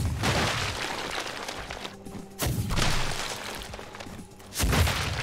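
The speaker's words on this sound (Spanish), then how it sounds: "Ah, es que disparo una bola de cañón" Cannonball weapon firing in the demonic shooter game Project Warlock 2: heavy booming shots with crashing impacts, several bursts in a few seconds, the loudest near the start and near the end.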